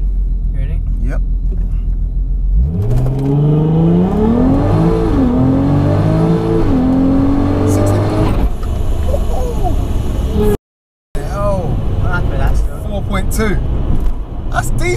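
A 500 bhp supercharged Golf R32 accelerates hard from close by with a rising, whirring engine note through several gear changes, and a later second run builds again. People talk over and between the runs.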